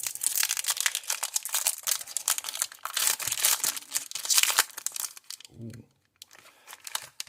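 A Flesh and Blood Monarch booster pack's foil wrapper is crinkled and torn open close to the mic, in dense rustling bursts for several seconds, followed by a brief voiced exclamation.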